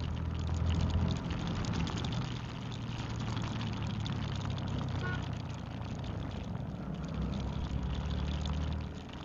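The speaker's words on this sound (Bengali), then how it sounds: "অনেক জোরে বৃষ্টি নামছে আবার।" Heavy rain pouring during a motorcycle ride, a dense, steady hiss of falling water mixed with engine rumble throughout.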